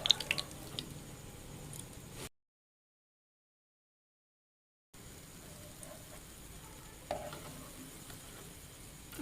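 Palm-fruit boondi frying in small batches in hot oil, a soft continuous bubbling sizzle with a few clicks, quiet and close, cut off by a silent gap midway before the frying resumes.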